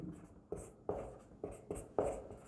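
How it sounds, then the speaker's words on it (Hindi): Chalk or marker writing on a board during a chemistry class, a string of short scratchy strokes in an uneven rhythm, close and moderately quiet, with no voices. "यहाँ पर लिखते हैं हम, या नीचे ही लिखते हैं यहाँ"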